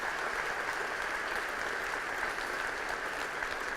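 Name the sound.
graduating class applauding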